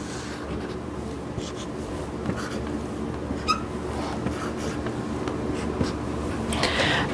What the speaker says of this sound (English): The first thing I have to do is draw my graph.